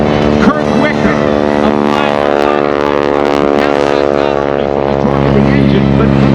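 A biplane at the 2013 Sun N' Fun airshow drones with a loud, steady engine and propeller hum that holds for the whole stretch, while a commentator talks over it.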